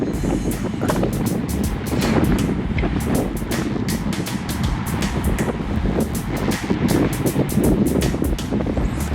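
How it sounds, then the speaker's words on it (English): Stiff wind buffets a microphone while cycling, a loud continuous rumble with gusty swells and repeated crackling bursts throughout, no voices. "So the wind is blowing, it's pretty stiff."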